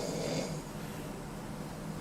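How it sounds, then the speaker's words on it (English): A person snores with a drawn-out rasping breath at the start, then a low steady breathy rumble continues, fairly quiet. "that's snoring"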